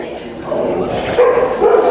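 A dog gives low, muffled barks and yips close by, mixed in with a person's continuous soothing talk.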